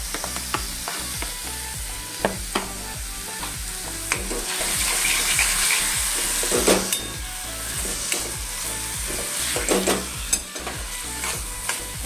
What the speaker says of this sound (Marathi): छान भाजून घ्यायचंय त्या वाटणात